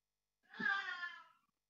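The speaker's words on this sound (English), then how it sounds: "there's a cat, I don't know if you can hear it." A single cat meows once, a short, faint, drawn-out wail lasting about a second, alone against silence.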